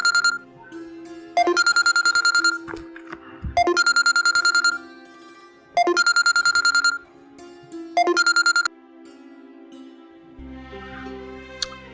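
Telephone keypad tones and a ringback signal play in several short bursts of layered beeps with pauses between them, loud and close with no voices, before a lower hum at the end.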